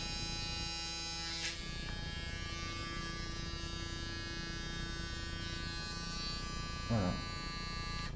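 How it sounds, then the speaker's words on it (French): A Braun Series 9 9280cc electric shaver's long-hair trimmer runs with a steady, continuous electric buzz, close and constant throughout, with a brief spoken word over it near the end. "c'est ici la tondeuse qui se met en route."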